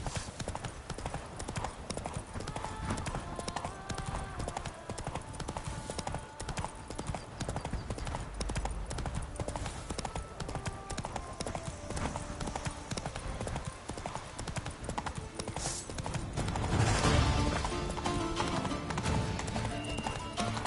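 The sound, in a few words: horse galloping, from video game The Witcher 3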